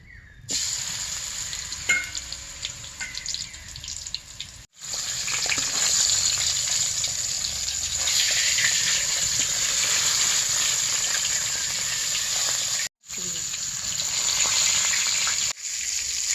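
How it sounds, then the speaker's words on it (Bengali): A rohu fish head fries in oil with turmeric and chili, a loud, continuous close-up sizzle with brief cuts and occasional spatter. "এভাবেই আমি মাথাটা এখন ভেজে নিব একটু হলুদ মরিচ দিয়ে মেখে নিব তেল দিয়ে দিব"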